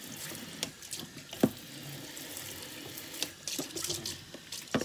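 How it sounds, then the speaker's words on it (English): Tap water splashes into a Tupperware water bottle during rinsing, a soft steady gush with light clinks and knocks of the bottle, close but low in level, with no speech. "Then you just need to rinse."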